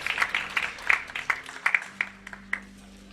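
Scattered clapping from church attendees at a presbytery assembly's opening worship service in Bucheon Seomun Church, loose individual claps that thin out and taper off over a few seconds.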